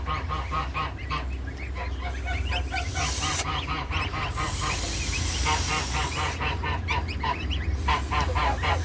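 Goose at a goose-rearing farm during the first hatching of the year, giving loud, close, repeated honks in rapid bursts, with sharp hissing breaking in between, and no speech.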